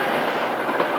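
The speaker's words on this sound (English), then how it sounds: "It led straight to the busy railway junction." Train cars rolling past at a busy railway junction, a steady dense rumble and rattle filling the whole second with no break or pause.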